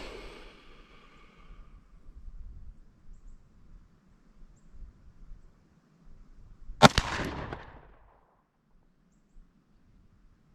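A single sharp rifle shot cracks at an outdoor shooting range, followed by a short decaying echo and then near silence.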